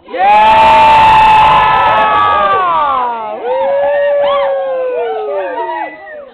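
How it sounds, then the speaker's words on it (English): Loud, sustained screaming and cheering from many children's voices at a kids' TV show taping in Zambia, high and wavering, rising together close by. "You guys make some noise. Just scream, yeah!"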